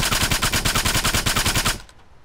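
Loud, rapid automatic gunfire from the Arma 3 video game rattles in a steady burst of evenly spaced shots, then stops abruptly near the end.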